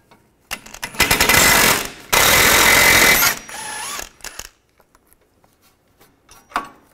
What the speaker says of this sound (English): use an 18 millimeter wrench on the bolt, 18 millimeter socket on the nut.